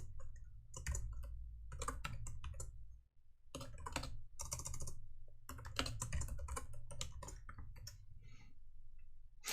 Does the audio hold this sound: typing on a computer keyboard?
yes